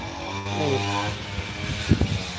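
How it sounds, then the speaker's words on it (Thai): A grass trimmer's small engine whines close by, its pitch wavering up and down, with a couple of sharp knocks near the end. "ได้ยินเสียงเครื่องตัดหญ้าไหมจ๊ะ"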